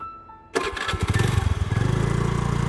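A scooter engine cranks and catches abruptly, then settles into a loud, rapid putter that speeds up into a steady, even idle rhythm, used as a cartoon sound effect.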